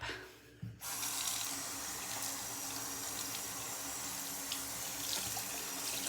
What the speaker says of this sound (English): And hopefully the water running isn't too loud.